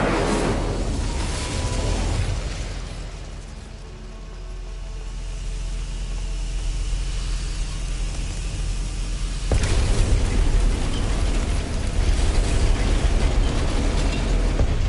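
An Incendio fire spell in a wizarding video game gives a dense, roaring whoosh of broadband noise that eases briefly, then erupts into a sudden louder burst that keeps blazing steadily to the end.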